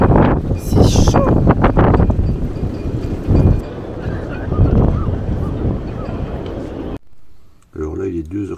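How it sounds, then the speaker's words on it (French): A strong, warm wind gusts at night around a sailboat moored at La Gomera, buffeting the microphone in heavy, roaring bursts that swell and ease, with people talking over it and a brief quiet gap near the end. "il souffle un vent chaud, assez puissant"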